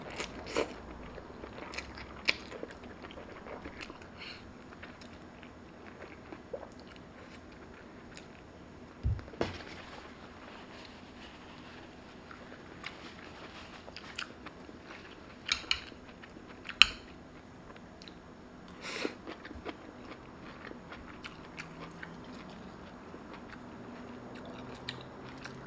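Shirataki noodles eaten close up with metal chopsticks, soft wet chewing and occasional slurps with sharp clicks and taps of utensils scattered through a quiet background, no talk.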